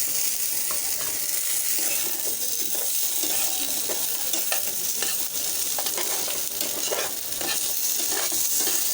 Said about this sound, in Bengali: সব কিছু একসাথে ভাজা হয়ে গেছে। দিয়ে দিচ্ছি চিকেন।